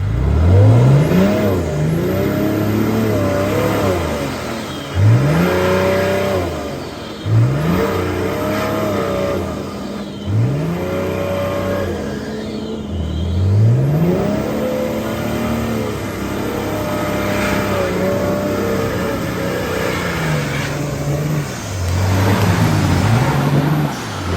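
A car engine revs hard again and again while driving through a deep, water-filled mud hole on a rough off-road track, each surge loud and close, rising and falling in a steady rhythm with no voices.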